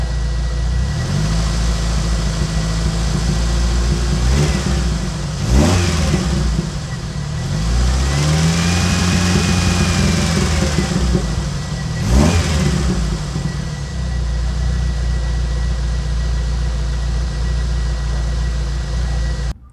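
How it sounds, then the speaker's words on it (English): A fuel-injected Jeep engine fitted with a Gunson unit gets three quick throttle blips, each rising sharply and settling back to a steady, loud idle heard up close. "you can see that when you blip the throttle with this Gunson installed"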